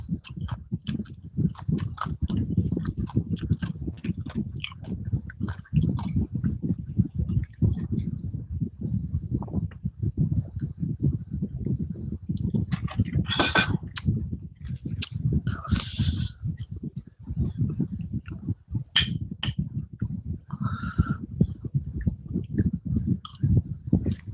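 Crispy food is chewed close to the mic in a steady run of crunchy, wet bites, with a few sharp clicks and brief sounds partway through.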